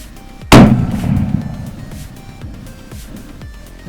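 A single loud rifle shot on a ranch during hog and coyote removal, fired without the front of the rifle bagged, cracks sharply and is followed by a long ringing metallic screech that decays over several seconds outdoors.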